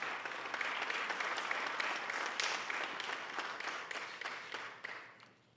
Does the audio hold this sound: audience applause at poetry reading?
yes